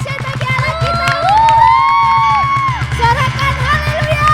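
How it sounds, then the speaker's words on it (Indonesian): A children's congregation at an online Sunday worship service cheers and shouts in praise, a loud sustained crowd roar with whoops and rising voices that swell midway and stay strong throughout. "Sekali lagi berikan sorak-sorak yang dahsyat bagi Allah kita."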